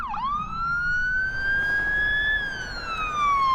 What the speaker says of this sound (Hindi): एम्बुलेंस बुला फटाफट।